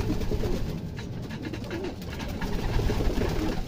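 Pigeons coo in low, throaty murmurs over a dense, rustling background of fluttering and shuffling birds.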